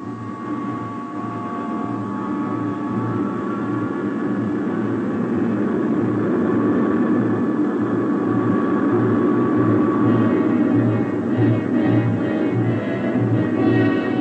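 Steady, droning roar of a Russian long-range military turboprop aircraft in flight, a low pulsing hum under broad engine noise, constant throughout.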